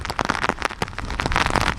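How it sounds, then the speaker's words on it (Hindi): Heavy rain pours during Cyclone Biparjoy in Gujarat, a dense, close patter of drops striking surfaces with uneven bursts throughout. "बारिश बहुत ज़्यादा है"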